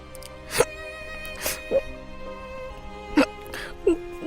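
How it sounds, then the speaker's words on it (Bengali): A crying girl hiccups in short, sharp catches, four or five spaced over a few seconds, close and fairly quiet against a low background hum. "হেঁচকি তুলতে থাকে"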